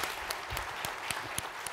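Applause from a conference audience welcoming a speaker, moderate and steady with sparse distinct claps standing out over a continuous patter, heard from a distance.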